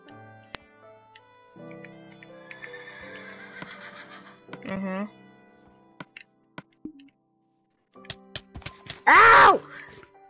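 A horse whinnies in bursts amid Minecraft game sound effects and clip-clop, with a loud, close neigh near the end and clicks scattered between.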